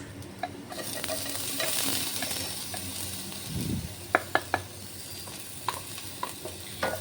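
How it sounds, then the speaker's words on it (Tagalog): Minced garlic and small shrimp sauté in a hot pan with a steady, close sizzle and frying hiss, broken by a few sharp clicks and scrapes of a utensil stirring against the pan. "ginasa-gasa ko nga muna dito hanggang sa maamoy yung amoy niya at saka mag-crispy naman siya ng konti"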